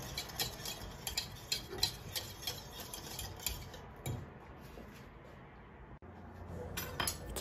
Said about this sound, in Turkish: 60 gram sütlü çikolata ekleyelim ve çikolata eriyene kadar karıştıralım